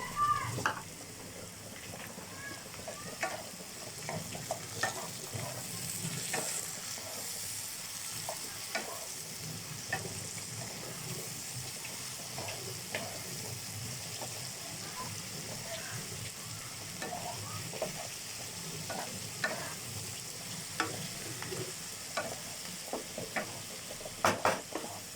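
Soaked raisins and cashews frying in a kadai for Christmas fried rice, a steady close sizzle with stirring scrapes and scattered clinks of a utensil against the pan throughout.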